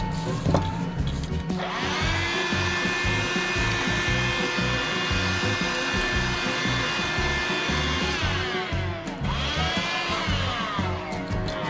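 A small Bissell pet hair vacuum powered by rechargeable NiMH AA batteries whirs close by with a high motor whine and fluttering airflow, its pitch dipping and rising briefly near the end.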